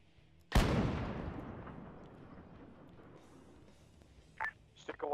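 A loud artillery blast in the WW2 Arma 3 video game hits sharply and rolls into a long decaying rumble, followed near the end by a couple of fainter distant thuds.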